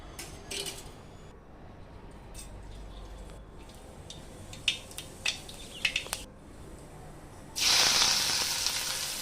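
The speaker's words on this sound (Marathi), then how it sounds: "तेलामध्ये राई जिऱ्याची फोडणी करून घेणार आहे।" Mustard seeds and cumin sizzling in hot oil for a tempering, with a few sharp pops, then a sudden loud, steady hiss near the end.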